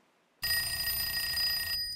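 A telephone bell rings in a nuclear medicine lab during a radiation spill response, a loud continuous electronic ring starting abruptly and held steady for over a second before cutting off.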